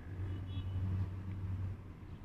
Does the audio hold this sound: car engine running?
yes